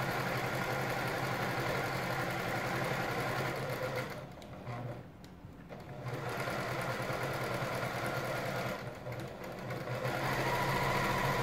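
A PFAFF Creative 1475 CD sewing machine runs in continuous back stitching, a steady close mechanical whir with two brief dips where it slows or pauses.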